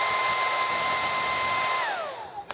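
A heat tool blows a steady stream of hot air onto a Marx short vista dome from a model train, running loud and close with a whining tone before winding down and cutting off near the end.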